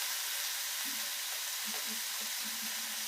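Salted food sizzling and hissing steadily in a pot while being stirred, with a few soft scraping knocks under the constant frying noise.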